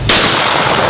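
A shotgun blast at a clay target during trap shooting, fired alongside a national-team shooter, sounds as a single loud sharp report at the start, followed by a long ringing decay with no talking.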